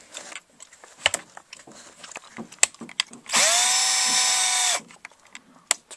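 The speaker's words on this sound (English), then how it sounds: "that's the drill" A new Black & Decker cordless drill with a dying battery whirs for about a second and a half, its motor pitch rising then holding steady, amid scattered clicks and handling noises close by.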